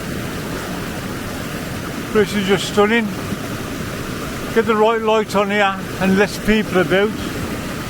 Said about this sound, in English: Not sure if you can hear me, guys, over this water, over the sound of the water.